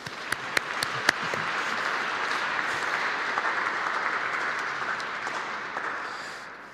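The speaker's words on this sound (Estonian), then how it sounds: "Teeme neile suure aplausi." A church congregation applauds during a worship service, with sustained clapping that holds steady for several seconds and a few sharper claps near the start.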